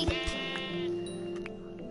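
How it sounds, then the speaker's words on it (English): A Minecraft sheep gives a single short, nasal bleat close up, with a faint game tone droning underneath and no talk. "Sheep."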